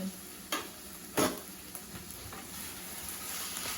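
Cheese stirred into a sizzling pan for brunch, with a faint steady frying hiss and a few soft scraping knocks of the spoon, quiet and close.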